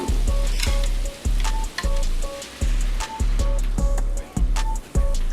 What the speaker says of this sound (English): you wanna saute your onions until they're kind of translucent from the butter